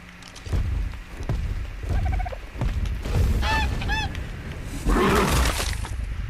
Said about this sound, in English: There's a dodo.